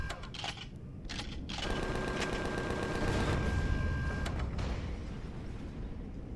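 Empyrion: Galactic Survival gunfire comes in a few sharp bursts at the start, then a sustained mechanical hum with a steady tone before the sound fades into low background rumble.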